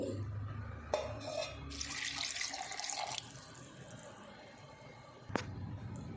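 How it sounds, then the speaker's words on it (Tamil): Water from a glass pours into a mixer jar holding ginger, lemon juice and mint for a summer mint drink, a short, quiet splashing burst with faint clinks of the glass before and after. "ஒரு கிளாஸ் தண்ணி,"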